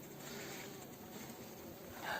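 Honey bees buzz around beehives in an August apiary, forming a faint, steady, close-by drone for a couple of seconds with no one speaking.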